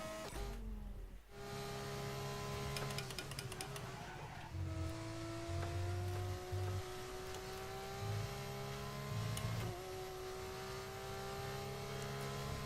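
An F1 racing car in the F1 25 video game laps steadily with a continuous high engine whine that rises and drops through gear changes and corners, without talking.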